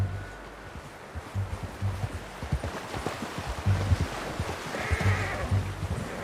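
Horse in the Red Dead Redemption 2 video game, with repeated low snorting and hoof-like thumps over an outdoor ambience, close and moderately loud, plus a faint brief higher whinny-like tone near the end.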